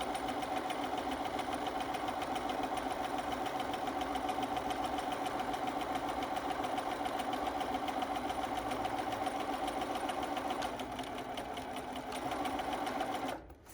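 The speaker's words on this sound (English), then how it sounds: "And now I'm going to stitch, doing a few stitches forwards, then using the quick reverse to tack it" A sewing machine runs steadily and close by as it stitches a seam on a fitted face mask, a rapid even hum lasting several seconds before briefly easing and stopping.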